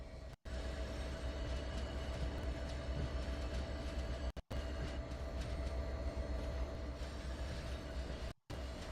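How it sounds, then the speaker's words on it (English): A small subway train in Microsoft Flight Simulator 2020 gives a steady, loud rail rumble with a low hum and a constant drone, broken by two brief near-silent dropouts. "That little subway train."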